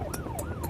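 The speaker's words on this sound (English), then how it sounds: "We're coming on blue lights and sirens, so we're going to be there as quickly as we can." Ambulance siren on a blue-light emergency run wails up and down in a smooth repeating sweep, loud and close, with rhythmic bursts of hiss pulsing through it and road rumble underneath.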